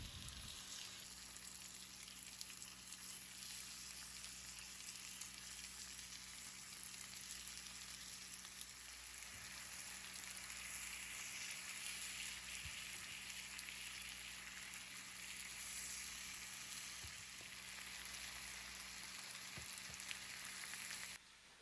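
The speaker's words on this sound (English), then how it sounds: "You want to hear the sizzle." Apple slices with sugar sizzling in a pan over low heat, a steady, soft crackling fry with small pops throughout, close but fairly quiet, with no talk.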